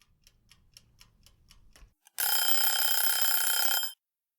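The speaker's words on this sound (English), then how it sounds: "It's the sound of a kitchen timer buzzing." A timer ticks rapidly for about two seconds, then a loud, harsh buzzer rings continuously for nearly two seconds before cutting off abruptly.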